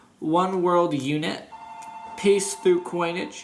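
A telephone rings indoors with a steady electronic tone, sounding faintly in the background beneath someone speaking close to the microphone.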